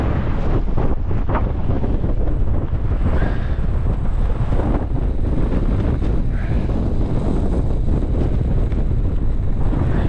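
Strong gusts in blizzard conditions in the mountains buffet the microphone with a constant low rumble and bursts of blustery roar, loud and unbroken for the whole stretch.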